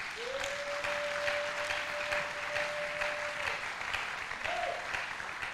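A church congregation claps and cheers in praise, a sustained close wall of applause that holds evenly throughout, with a thin tonal whistle or feedback line running beneath it.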